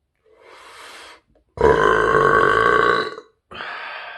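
Three burps in a row: a softer opening one, then a long, deep, resonant belch lasting about a second and a half, and a short final one, all close up with no talk.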